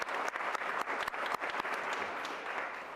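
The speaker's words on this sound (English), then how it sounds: "we'll applaud you all now" An audience at a women's achievement awards ceremony applauds past selection committee members, a steady wash of many hands clapping throughout with a few sharper individual claps standing out, moderately distant and without talk.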